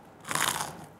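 One crisp, crunchy bite into a gluten-free cinnamon donut that is crunchy outside and soft inside, a single close crackling burst lasting about half a second.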